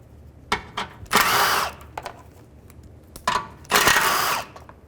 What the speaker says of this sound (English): take these three 10mm bolts out. Just use a 10mm socket.